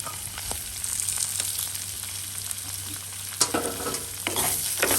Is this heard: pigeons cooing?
no